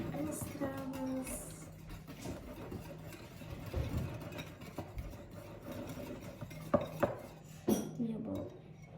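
Cake batter is stirred in a bowl for a quick five-minute cake, the spoon scraping and clinking against the bowl in a steady, close, irregular rhythm with a few sharper knocks near the end.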